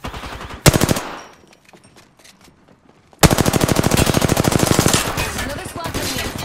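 Rapid automatic gunfire in Apex Legends, a loud sharp burst, a quieter lull, then a long sustained stream of fast shots that tapers slightly toward the end.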